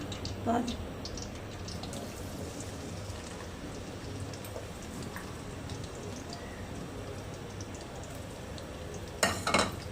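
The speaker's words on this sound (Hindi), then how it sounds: "तेल गरम हो चुका है। प्याज भी गरम। अब इसमें प्याज डालते हैं।" Onions dropped into hot oil in a pan and stirred, giving a steady close crackling hiss throughout, with a brief louder clatter of utensils near the end.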